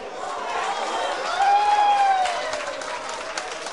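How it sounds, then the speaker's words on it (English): Crowd at a pool match breaking into applause and cheers after a shot, a dense swell of clapping that peaks midway and then tapers off, with a whistle rising above it. "The crowd is going crazy with every shot that this guy makes."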